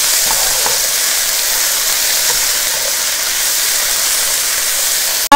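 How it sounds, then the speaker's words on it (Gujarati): Beef steak stirred in a hot pan, giving a loud, steady frying hiss with faint stirring scrapes and a sharp knock at the very end, with no talking. "ફાઇન એને હલાવી નાખશું."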